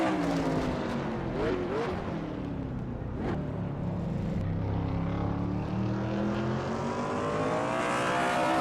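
Stock cars race through turns in a sim racing game, engines droning loud and continuous as several cars sweep past with rising and falling pitch, a commentator talking over the engines.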